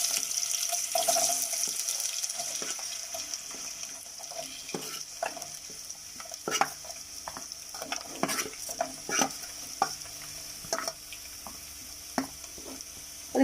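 Chopped potatoes fry in hot coconut oil with mustard seeds. A soft, steady sizzle runs underneath while a spoon stirs and knocks against the pan in scattered clicks, fairly quiet and without any voices.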